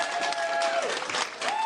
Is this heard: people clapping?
yes